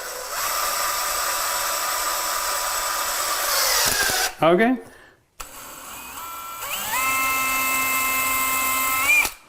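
A power drill with a tiny 1/16-inch bit whines steadily while pre-drilling a pilot hole for a screw during a kitchen remodel. The motor drops out briefly, then spins up again, and a voice speaks in the pause.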